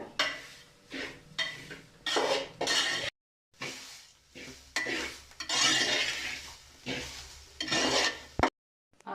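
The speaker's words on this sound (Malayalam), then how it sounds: "നമ്മൾ തേങ്ങ മുട്ടോണ്ടിരിക്കുകയാണ്. വൃത്തിയായിട്ട് മുട്ടണം." A spoon stirs grated coconut as it dry-roasts in a pan for Kerala chammanthi podi, giving repeated scraping and rasping strokes against the metal in bursts with brief pauses, close and fairly loud, no talking.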